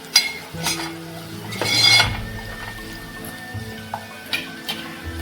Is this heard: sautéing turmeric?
yes